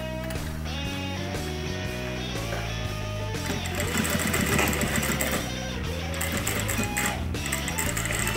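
A sewing machine stitching straight across a strap, a rapid mechanical chatter that starts partway through, heard under loud background music.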